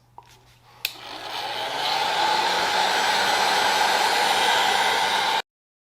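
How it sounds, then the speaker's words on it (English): Heat gun rated to 1,000°F, used to loosen sticker adhesive on a ride wrap, switches on after a couple of clicks and ramps up into a loud, steady roaring blast of air that cuts off abruptly at the end. "we'll use the heat gun and just lightly apply some heat to try and loosen the adhesive up"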